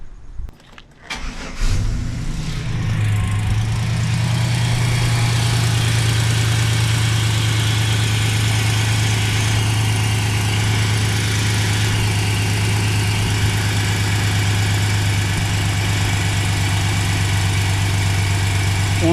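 A 2007 Chevy Silverado with a 4.3L engine and a lean-running fault on both banks cranks, catches and then idles steadily with a loud, even hum close by.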